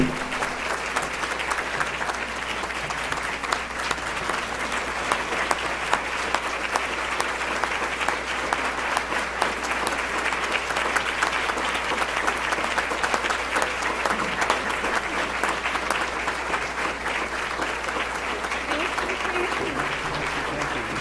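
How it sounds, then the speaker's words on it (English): Sustained audience applause for former Justice Sandra Day O'Connor at a Women and Leadership event, a dense, steady roar of many hands clapping that holds at an even level for the full stretch. "if I say thank you, you can stop clapping"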